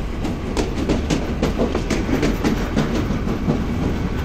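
Hawr Express passenger train rolling along rails at night, a loud steady rumble with rhythmic clickety-clack of wheels over rail joints throughout.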